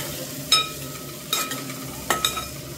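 Tomatoes are stirred into hot oil in a pan for egg curry, with a spoon scraping metal in three sharp strokes over a soft continuous sizzle.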